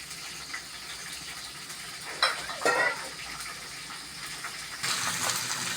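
Crabs fry in oil in a clay pot. A soft, continuous sizzle runs throughout, with a few sharper bursts of crackling and stirring in the middle and a louder sizzle near the end.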